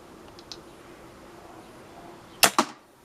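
A Kral NP02 air rifle fires one sharp, close crack, followed by a quick second snap; faint clicks and quiet room noise come before the shot.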